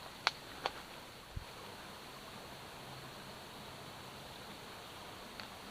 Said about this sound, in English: It's nice to hear the water.